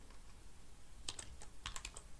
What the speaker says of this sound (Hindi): अब यहाँ पे आप टाइप कर सकते हो #include